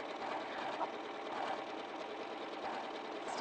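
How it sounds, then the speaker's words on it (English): A sewing machine stitches along linen fabric, a steady, continuous whirring drone holding even throughout with no pauses or speech. "Stitching along here."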